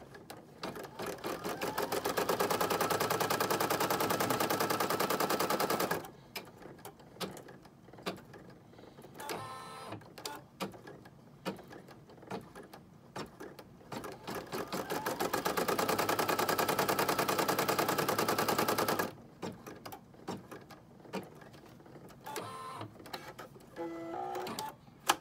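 An embroidery machine stitches a sew-out on fabric held in a hoop, running in two long stretches of loud, rapid, steady needle chatter. Quieter mechanical clicks and pauses fall between the runs.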